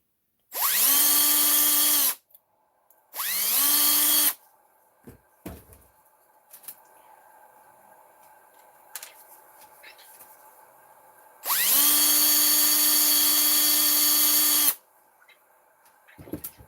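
Power drill with a small bit, likely on an RC model repair, whining at high speed in three separate runs, two short and one longer, with quiet handling clicks and knocks between them.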